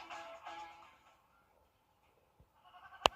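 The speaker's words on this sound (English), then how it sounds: "What's with all the goats?" Goats bleat in a TV commercial, with a couple of wavering bleats at the start, a brief lull, then faint rustling and a sharp click at the end.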